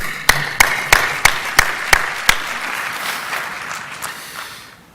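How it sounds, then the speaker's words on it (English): Scattered applause from a conference audience after a prize is presented, with several sharp, distinct claps early on, then a softer, fading patter of clapping that dies away. "It's an applause."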